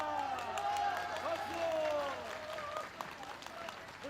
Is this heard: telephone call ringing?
no